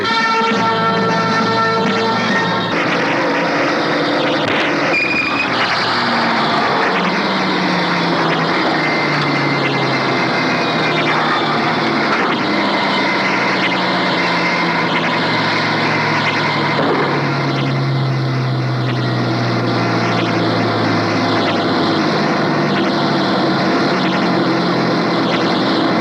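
A propeller airliner runs up and takes off, its engine roar loud and sustained, with a pitch that slowly sweeps as the aircraft gathers speed and climbs away.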